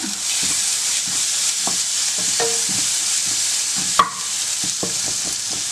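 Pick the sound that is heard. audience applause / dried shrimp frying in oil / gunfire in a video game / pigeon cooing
dried shrimp frying in oil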